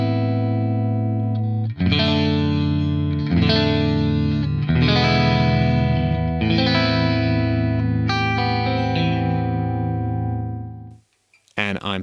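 A Strat electric guitar played through a Fractal AX8 on the USA Clean amp with a Petrucci V30 cabinet mix, ringing clean strummed chords that sustain and overlap for about ten seconds before cutting off abruptly.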